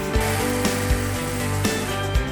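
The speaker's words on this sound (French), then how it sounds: "cette tronçonneuse, elle est surtout destinée à faire de l'élagage" Battery-powered chainsaw meant for pruning, cutting small pieces of wood: a continuous loud motor whine with repeated sharp bursts as the chain bites, no talking.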